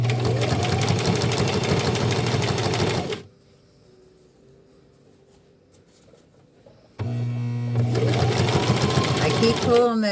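Sewing machine stitching a zipper into a fabric wrist wallet, running in a loud steady burst, stopping for a few seconds of near quiet, then starting again just as loud.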